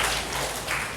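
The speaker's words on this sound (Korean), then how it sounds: "박수 한번 드립시다" Brief applause from a church congregation during a Korean service, a short burst of scattered clapping with no voices.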